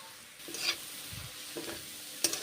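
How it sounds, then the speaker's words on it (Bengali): Cabbage with turmeric frying in a pan is heard as a quiet, low sizzle broken by a few stirring scrapes and soft knocks of the spatula, with no talking. "বাঁধাকপি এখন ভেজে নিচ্ছি হলুদ গুঁড়ো দিচ্ছি"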